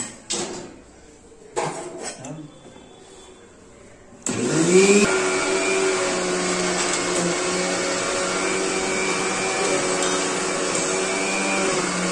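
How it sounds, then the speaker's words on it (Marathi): A mixer grinder grinds coconut with water. A few clatters and quiet pauses come first, then the motor kicks on into a loud, steady, close whirring drone that runs to the end, with no talk. "मिक्सरला लावून घ्यायचा"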